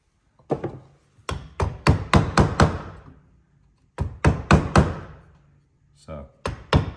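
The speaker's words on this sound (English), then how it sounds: "trying not to obviously lever it one way or the other, just holding the chisel nice and straight." Sharp, percussive blows of a mallet striking a chisel into wood during a carpentry hand-tool exercise, landing close in quick bursts of four to six strikes with brief pauses between.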